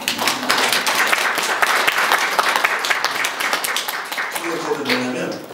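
An audience at a church officers' conference claps loudly in a dense burst of applause that holds steady for several seconds, then thins toward the end.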